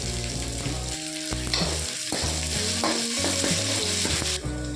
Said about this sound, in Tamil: வெங்காயம் பூண்டெல்லாம் நல்லா வணங்கிருச்சுங்க